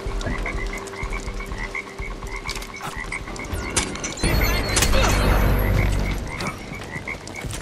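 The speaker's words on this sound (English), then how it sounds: "Someone shut that frog off." In Splinter Cell: Blacklist, a frog croaks over and over in a steady, insistent rhythm above quiet game ambience, with a louder burst of background noise partway through.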